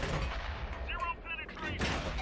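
A tank cannon in World of Tanks fires in a short, heavy blast followed by rumbling echo, loud and close, with the game's background noise continuing throughout.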